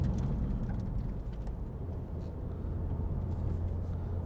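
A 2017 Honda Civic Type R GT with a 2.0 i-VTEC engine makes a low, steady rumble while driving, heard from inside the cabin with road noise and no talk.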